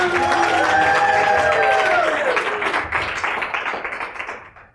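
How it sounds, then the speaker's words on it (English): Audience applause and light cheering greet a speaker taking the stage, with a held tone sounding over the clapping at first, then the clapping thins and fades out toward the end. "Round of applause for Ruth, Sharon!"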